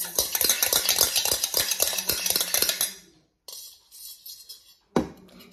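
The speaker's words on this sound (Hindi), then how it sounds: "सो गाइस अब हमने इसको मिक्स करना है आराम आराम से।" A spoon stirs Maggi noodles in a pot with a quick, steady run of scraping clinks and taps, then stops, leaving near silence and one last knock.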